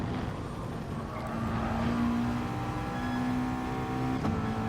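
Race car engines drone in GT Sport at Laguna Seca, a Corvette among them, a sustained loud roar with rising revs and tonal whine as the cars accelerate around the track.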